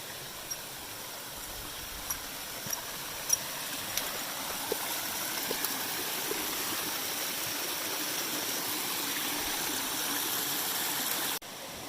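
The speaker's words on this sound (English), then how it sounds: "More waterfalls, more water to cross." A stream and waterfall on the Appalachian Trail in the 100-mile wilderness rush with a steady broadband wash, soft and continuous, with a few small clicks from nearby.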